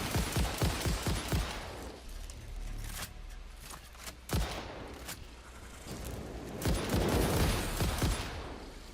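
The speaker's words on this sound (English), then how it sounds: "I'm trying to shoot this spitter." A player in Satisfactory shoots at a zigzagging spitter creature, with sharp shots in quick clusters at the start and later, separated by quieter stretches of machinery-like hum.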